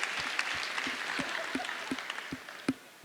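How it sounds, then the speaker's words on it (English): A church congregation claps in praise, a roomful of applause with a clear, regular beat of sharp individual claps standing out over the steady wash. "come on, let's clap and thank God"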